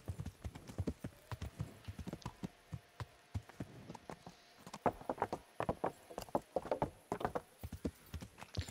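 Horse hooves clip-clop steadily on ground in the medieval game Kingdom Come: Deliverance, a quiet, even walking rhythm of sharp knocks heard alone without speech.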